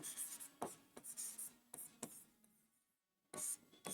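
Hand writing on a board during a lesson, a series of short scratchy strokes with brief gaps and a pause near the end before a final stroke, close and moderately faint.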